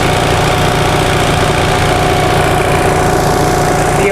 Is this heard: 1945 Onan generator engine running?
yes